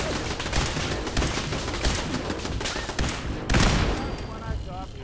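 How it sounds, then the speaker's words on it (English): Dense, sustained gunfire and loud combat noise from Fallout 4, with shots and blasts packed together continuously and a heavier burst near the end. "And then I shot him and set him on fire"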